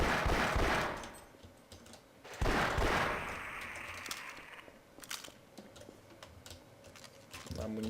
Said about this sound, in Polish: ci już strzelają